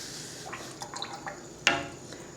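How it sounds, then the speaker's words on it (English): A watercolor brush being rinsed in a water container gives small close drips and swishes, with one sharp clink against the glass near the end over a quiet room. No one speaks. "I'm going to rinse my brush off."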